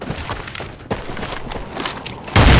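A flashbang grenade is thrown during a competitive Counter-Strike 2 match, amid scattered clatter and thumps. A loud, harsh burst of noise erupts at the very end.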